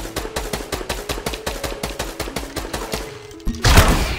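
Rapid automatic gunfire in Fortnite, a steady rattling stream of close, evenly spaced shots for about three seconds, followed by a brief lull and then a louder, noisy blast.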